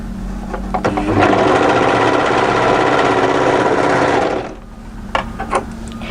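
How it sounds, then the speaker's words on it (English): An overlocker stitches along a dress belt in a rapid, steady, loud mechanical whir lasting a few seconds, then stops, leaving faint clicks and handling noises. "So just overlock up to and off at that next notch position."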